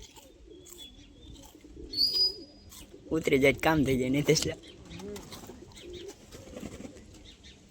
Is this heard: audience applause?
no